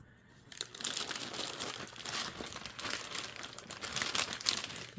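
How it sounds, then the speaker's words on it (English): Plastic packaging from a Temu haul crinkles and rustles steadily while being unboxed, close and fairly loud, with sharper crackles near the end and no talking. "you'll probably still hear the crinkling"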